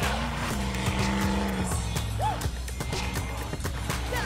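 A 4x4 off-road vehicle at a jam event rounds a dirt track turn, its engine roaring loudly and steadily with revving pitch changes, close and continuous with crowd noise behind.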